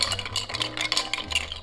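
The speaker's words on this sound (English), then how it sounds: "We're gonna take our bar spoon and mix it." A bar spoon swirls a Manhattan cocktail in a mixing glass, giving a steady run of quick clinks and scrapes that sound close and clear, with no voices.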